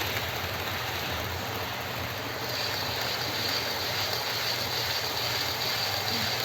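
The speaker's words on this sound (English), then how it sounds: "that's such a lovely noise of the Pendolino going across the points" A steady, loud rumbling roar of a Pendolino train rolling over points, with a dense rattling, clattering texture throughout and no voices.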